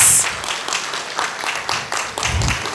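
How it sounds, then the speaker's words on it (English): An audience at an event on women's and children's rights gives a short round of applause, a moderate wash of clapping with a few sharper claps. "I think we deserve another round of applause"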